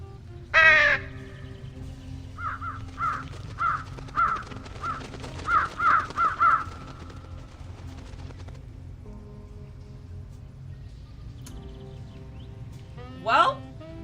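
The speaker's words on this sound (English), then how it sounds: "I summon a group of murders, which are crows." Crows in the Truberbrook video game cawing in a quick run of repeated calls, with a louder single caw at the start and another near the end over a low ambient hum.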